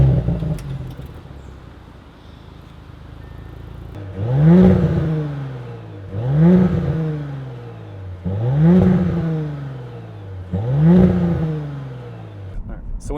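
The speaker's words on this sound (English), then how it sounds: "when you saw that part of revving the exhaust" Audi S5 exhaust revved four times in a row, each blip rising sharply then falling away in a deep sweeping roar, close and loud, after a quieter idling stretch.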